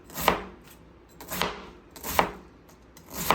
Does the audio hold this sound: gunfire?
no